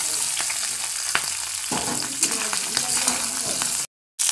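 Green chillies, ginger paste and fried vegetables sizzle in hot oil in a kadai while a spatula stirs and scrapes, with steady frying noise and a brief silent gap near the end.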